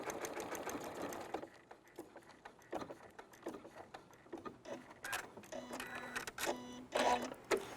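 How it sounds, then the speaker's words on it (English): A sewing machine works in short quick bursts of rapid needle rattling while sewing a French knot at zero stitch length. The bursts are separated by brief pauses and handling sounds, quiet and close. "I'm going to go ahead and just sew one French knot with a stitch length of 0."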